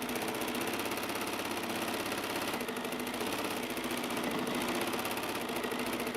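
Quilting sewing machine with a stitch regulator running steadily, a continuous rapid mechanical hum and chatter stitching through quilt fabric, close and even throughout with no pauses.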